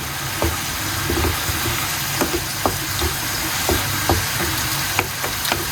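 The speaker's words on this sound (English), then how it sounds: "So we are just cooking off the mushroom" Mushrooms sizzle steadily in a hot pan as a low-carb dish is cooked, a constant hiss broken by a few soft clicks and stirring knocks, with no voices.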